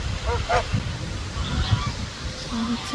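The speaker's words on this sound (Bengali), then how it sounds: "হাঁস" Ducks honk a few times, short nasal calls amid outdoor crowd murmur and faint chatter at a zoo.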